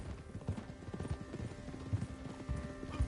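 Horse hooves clip-clopping in a video game, a steady near rhythm of hoof strikes on a hard path over a soft background hum, clear and fairly quiet, with no speech.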